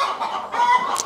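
Chickens clucking continuously at close range on a Kenyan animal farm, with a brief higher squawk near the end and no talking.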